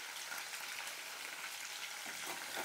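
Stingray fish pieces frying in hot oil, a dense, even sizzle like steady rain that holds throughout the short stretch with no speech.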